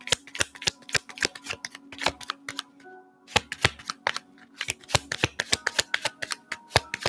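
Tarot cards are riffled and shuffled by hand in rapid sharp bursts of snapping flicks, with a short pause midway before the shuffling resumes at a steady, fast rhythm.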